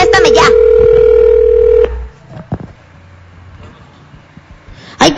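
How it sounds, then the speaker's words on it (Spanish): A telephone sounds with a loud steady electronic tone and short bursts at the start, then a quieter stretch of faint clicks and knocks before another burst at the end. "está sonando el teléfono"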